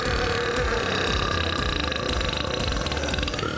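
Paul, a champion burper whose belches can reach 109 decibels, lets out one long, very loud, rough burp that fills the whole stretch without a break.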